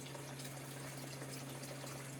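Water runs from a faucet into a basin for rinsing goldfish eggs, a steady, even gush of flowing water over a low constant hum, with no voices.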